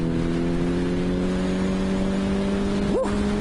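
Kawasaki ZXR 750 H1 motorcycle engine droning loud and close with steady harmonic tone, then a sharp rising rev near the end as it accelerates.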